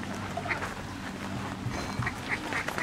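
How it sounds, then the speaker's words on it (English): A mother duck quacks in short, scattered bursts near her ducklings on the water, soft and fairly close against steady outdoor background noise. "Mama duck."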